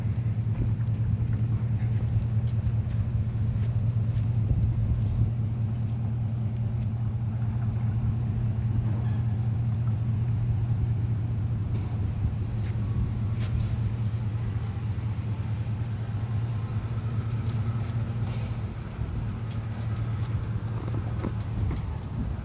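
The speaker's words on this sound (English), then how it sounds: "So now they're backing out the truck. A Ford F-150." A Ford F-150 truck backs out in a Walmart parking lot in Tillmans Corner, Alabama. Its engine gives a steady low rumble and idle hum throughout, fairly loud and unbroken, with no speech.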